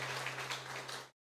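Church congregation at a Sunday Mass clapping in welcome: a short, soft burst of applause that cuts off abruptly, with a low steady hum underneath.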